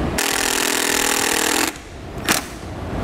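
A power driver spins a large self-tapping screw into the metal awning bar of a 2019 Jayco Greyhawk motorhome, a loud steady whir for about a second and a half, then stopping, followed by a short sharp clack.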